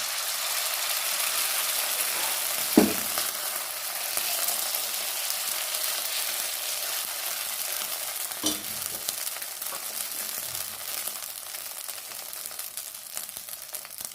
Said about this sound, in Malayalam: ഇനി നമ്മൾ നമ്മുടെ അപ്പച്ചട്ടിയിലേക്ക് അങ്ങനെ ഒരു തവി മാവ് ഒഴിച്ചു കൊടുക്കാം